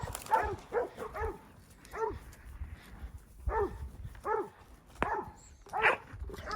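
Cattle dogs bark in repeated sharp bursts while working cows on horseback, with several separate barks spread across the stretch at moderate distance and light background noise between them.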